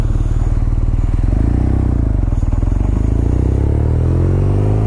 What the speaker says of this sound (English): Thank you guys for coming along for a rip on a R9T Scrambler